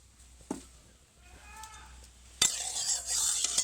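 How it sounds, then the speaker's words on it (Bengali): A quiet clink, then a sudden loud sizzle as white cooking oil hits a hot wok before frying koi fish, crackling steadily afterward. "কড়াইটা ভালোভাবে গরম হয়ে গেছে মাছগুলো ভাজার জন্য কিছুটা সাদা তেল দিয়ে দিলাম"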